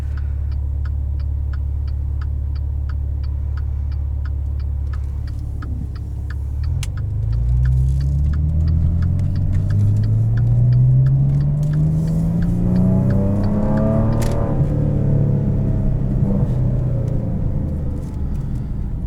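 A Maserati Ghibli S Q4 from 2015 with its six-cylinder engine idles with a low rumble, then revs up in one long rising sweep and falls back, heard close from inside the cabin alongside a steady ticking indicator.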